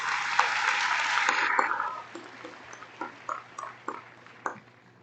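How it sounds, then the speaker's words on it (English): Applause from a commencement audience for graduates' parents and guardians, a dense broadband wash of clapping for about two seconds that thins into a few scattered claps and fades out. "Let's give them a round of applause."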